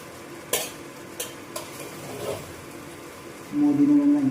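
Spices with turmeric stirred in a pan make a few scattered scraping clinks of a spoon over a faint sizzle, followed near the end by a louder steady hum.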